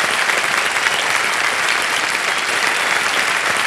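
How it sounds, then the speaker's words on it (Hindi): Loud, steady applause from a large television studio audience at a quiz show, dense clapping sustained throughout without a break. "तालियां बजते रहें।"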